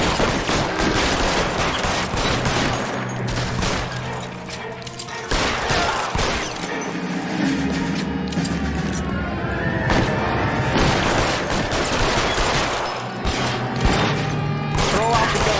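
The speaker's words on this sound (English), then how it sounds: "Fire a warning round." Gunfire bursts out in an L.A. Noire shootout against security men, rapid cracks and volleys scattered over the stretch, mixed with game voices and effects.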